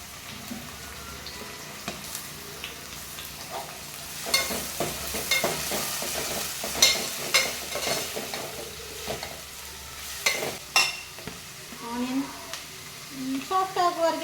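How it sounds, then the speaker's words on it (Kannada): Onions fry in sunflower oil in a pan for prawn pulimunchi, with a continuous close sizzle and repeated stirring scrapes while a person talks over it. "ಆನಿಯನ್ ಸಾಫ್ಟ್ ಆಗುವವರೆಗೆ ಫ್ರೈ ಮಾಡ್ತಾ ಇದ್ದೀನಿ"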